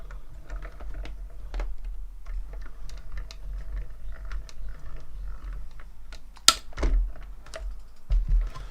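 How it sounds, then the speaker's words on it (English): A die cutting machine presses a card tree shape, giving a steady run of small clicking, ratcheting mechanical ticks with one sharper clunk near the end and a few knocks after. "carefully pop the lid down, and then die cut that out"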